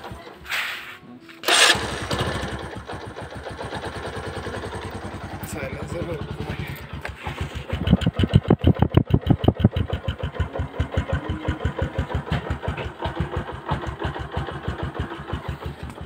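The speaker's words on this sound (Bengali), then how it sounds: "এখন আমি আপনাদেরকে এই বাইকটার একটু সাউন্ডটা শোনাতে চাই, ইঞ্জিনের সাউন্ডটা কেমন সেটা একটু শুনবেন।" Bajaj CT100 motorcycle engine, about 40,000 km on it, starting up and then idling with a steady rapid single-cylinder putter, revving harder partway through, close and fairly loud, with some talk around it.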